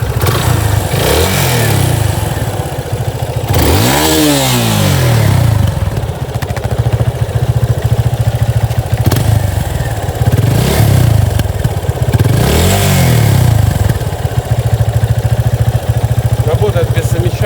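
A 2021 Yamaha FZ25 motorcycle engine, warmed up, idling with a chugging rumble, revved up sharply several times in loud bursts, close by.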